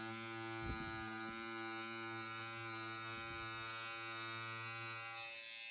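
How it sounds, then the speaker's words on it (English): Electric trimmers buzz steadily across the fibers of a custom tufted rug, a constant close motorized hum with a few brief low thumps and scrapes as the blades pass through the pile. "you just want to pass your trimmers through"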